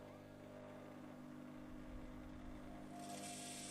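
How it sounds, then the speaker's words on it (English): An AEG washing machine motor, freshly fitted with new carbon brushes, spins empty with a steady, fairly faint hum and whir that climbs slightly in pitch near the end. "Now we'll test the machine just to make sure the motor is turning it onto spin"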